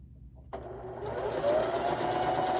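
A sewing machine stitches quilt fabric for a Halloween wall hanging, starting abruptly and running as a steady close mechanical whir with rapid needle clatter.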